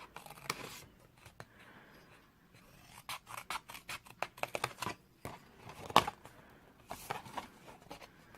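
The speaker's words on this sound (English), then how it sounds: "just cut up to that first score line and then basically just trim that away" Scissors snip and trim along score lines on a cardboard milk carton box, a series of short, close cutting and rubbing strokes, quiet at first and then busier, with one sharper snip midway.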